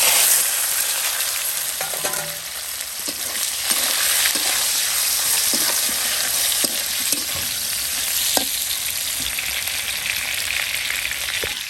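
Already fried potatoes and pointed gourd sizzle together in a pan, a steady hiss of frying oil broken by repeated scrapes and taps of a spatula as the pieces are stirred.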